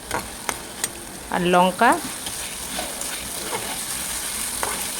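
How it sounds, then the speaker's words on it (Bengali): Bengali spice paste of onion, garlic, ginger, tomato, salt, turmeric, cumin and chilli fries in a pan with a soft continuous sizzle and a few sharp stirring clacks, while someone briefly speaks over it. "নুন হলুদ সব কিছু দিয়ে মশলাটা ভালো করে কষিয়ে নিচ্ছি"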